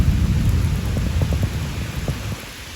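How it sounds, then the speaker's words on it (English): Heavy rain pours down in a dense, steady hiss, with faint low rumbling underneath and no voices. "And here comes the rain again for the 5th time today. The 5th torrential downpour."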